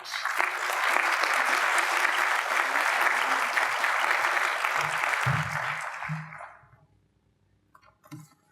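Audience applause at a community college presidential inauguration ceremony as a speaker is welcomed to the stage, a dense, steady clapping from a crowd in a hall that holds for about six seconds, then fades, followed by a few footsteps.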